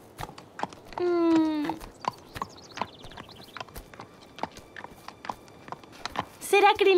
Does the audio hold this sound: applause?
no